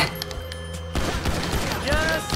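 Gunfire in the video game Grand Theft Auto V: a loud burst of rapid shots and booming game sound effects, dense and continuous through most of the moment.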